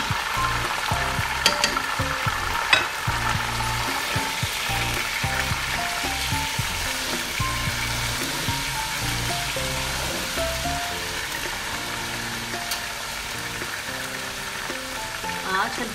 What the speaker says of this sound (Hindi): चिकन को फ्राई कर लेंगे थोड़ा सा